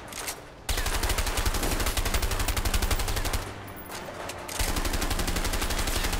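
Sustained rapid automatic gunfire in the game A Way Out, loud and close, rattling in long continuous bursts with one brief pause midway before resuming.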